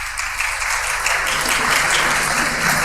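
Sustained audience applause fills a conference hall at an Islamic finance session, a dense, steady clatter of many hands that stays loud throughout with no talk on top.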